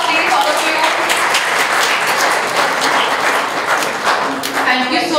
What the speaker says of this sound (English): A big round of applause please, all of you.